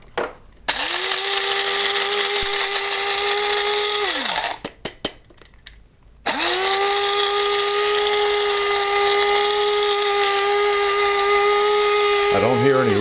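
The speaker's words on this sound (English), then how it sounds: "let's grind them up, and we're aiming for a medium to fine grind." An electric coffee grinder whirs loudly through Koffee Kult beans for a medium to fine grind, a steady high motor whine in two long runs separated by a brief stop and rattle.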